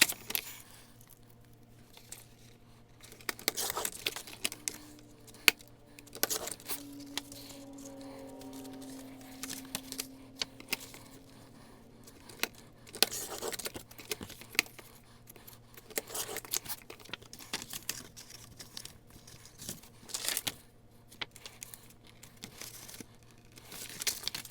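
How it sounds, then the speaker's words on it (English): Scissors cut pieces from a paper file folder, producing close, crisp snips and crinkly paper rustles scattered over a quiet stretch, with occasional light handling noises. "So let's cut a couple of pieces that size."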